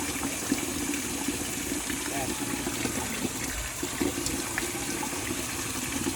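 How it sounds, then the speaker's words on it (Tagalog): A tap runs steadily into a hydroponics reservoir being filled toward 10 liters of water mixed with nutrient solution, a constant close rushing flow, with a brief spoken word over it. "hayaan po natin tumutulo yung gripo para mahalo na yung tubig at yung snap A"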